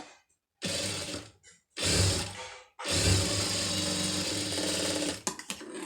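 A sewing machine runs in three bursts of rapid mechanical stitching, short at first and then a longer run, as it tacks a folded blouse sleeve, the needle clatter close and loud with brief pauses between.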